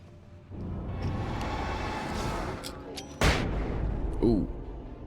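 A flashbang goes off in Alan Wake Remastered as one sharp, loud burst over a rumbling game background, followed by a ringing tone. A voice reacts soon after the blast.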